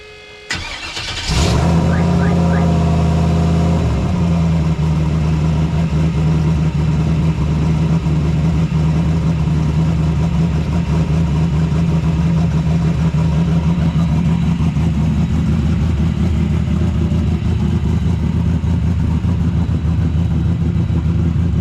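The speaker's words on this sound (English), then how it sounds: "we're gonna start this video off with a little cold start on the Trans Am" A turbocharged LS-swapped Pontiac Trans Am cold-starts with a sharp crank and catch, flaring loudly before settling into a steady, deep, rumbling idle that holds for the rest of the time, close and with no talking.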